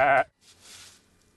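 A single short sheep bleat, loud and close, lasting about a quarter second, followed by faint, breathy background noise.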